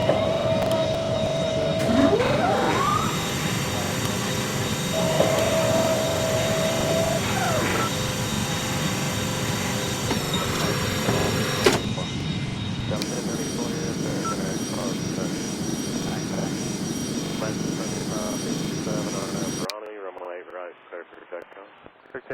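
An Airbus A330 taking off: a loud, sustained engine roar heard from inside the cabin, steady throughout with shifting whine tones, then cutting abruptly to a quieter hum near the end.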